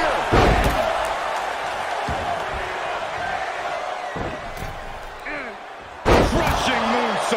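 A wrestler lands a crushing moonsault slam in the WWE 2K24 wrestling game, a heavy thud rising out of a steady roaring arena crowd, with a second impact later and a commentator talking over the action.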